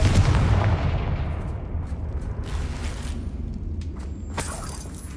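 A Confringo explosion spell goes off in Hogwarts Legacy, a loud, booming blast with a heavy low rumble at the start that decays into a long, crackling, debris-filled tail, followed by a brighter shattering burst near the end.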